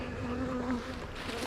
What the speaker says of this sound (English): A lot of bees on the front end of this thing.